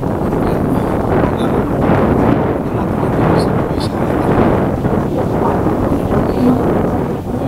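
Strong wind blows steadily across the microphone on a sandy shore by a lake that looks like the sea, a loud continuous rush and buffeting with faint talk underneath.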